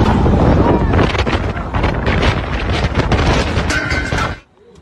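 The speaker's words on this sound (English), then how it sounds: "The gusty winds reaching speeds of up to 100 km per hour have posed a significant threat to residents and visitors" Strong gusty wind during a storm in Mecca roars and buffets the microphone with heavy, continuous rushing noise, then cuts off abruptly near the end.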